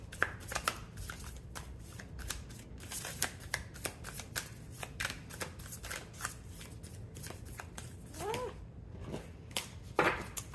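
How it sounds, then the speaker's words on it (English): A brand-new, stiff tarot card deck being shuffled by hand, with repeated quick riffling bursts and soft card slaps in a close, quiet room, no talking. "I guess this deck is like still brand new and it's very difficult to shuffle"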